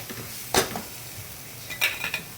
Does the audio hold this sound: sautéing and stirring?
yes